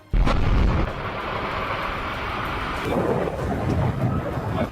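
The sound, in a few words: demolition explosion of a tall chimney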